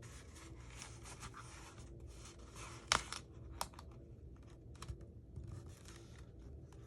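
A strip of tape tears off the roll with a short, sharp rasp while a paper mini album is being assembled, then softer rubbing and handling noises follow nearby with no talking.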